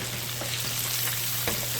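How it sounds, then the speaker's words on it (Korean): Battered sweet and sour pork with green onion deep-frying in oil heated to 190 degrees on a Rinnai gas range gives a close, steady sizzle with scattered faint pops and no talking. "자, 튀길게요."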